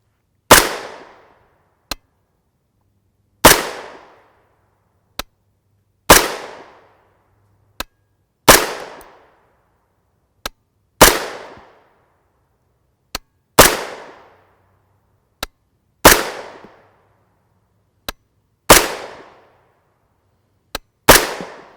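A 9x19mm pistol with a 5-inch barrel firing 151-grain FMJ subsonic rounds, eight loud close shots spaced a few seconds apart, each followed by a short echoing decay and a faint metallic tick.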